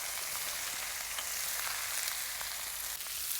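Mustard seeds, cumin and onion fry in hot oil with a loud, close, continuous sizzle and scattered faint pops, and no voices.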